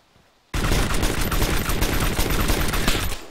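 Sustained gunfire in the Arma 3 video game on the Chernarus map: after a brief quiet moment, a loud, dense barrage of rapid shots erupts suddenly and continues unbroken, close and heavy.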